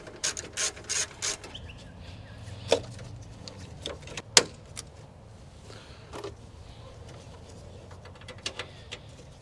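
A ratchet loosening a bolt on an R33 Skyline during a DIY AC fan install, a quick run of clicking ratchet strokes up front, then scattered sharp clicks and metallic taps, fairly close and quiet.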